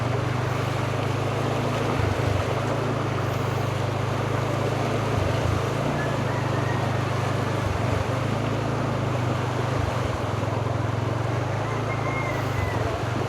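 A boat motor drones steadily and loudly with a low, pulsing hum, accompanied by rushing water and wind, as the boat travels through floodwater in San Simon.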